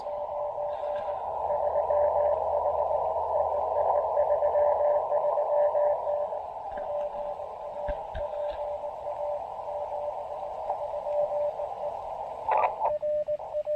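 A faint amateur radio signal from a low-power QRP portable station hums as a steady tone through receiver static and hiss, fading and wavering, with brief clicks near the end.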